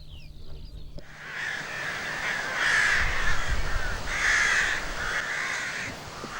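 A large colony of crows caws in a dense, overlapping chorus, many harsh calls rising in waves from a noisy open-air flock, loud and continuous after a brief quieter opening.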